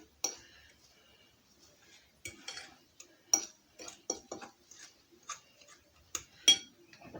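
A spoon stirs pepper into a mixture for stromboli filling, giving a run of quiet, irregular clicks and taps against a bowl, close and fairly soft, with small scraping strokes between them.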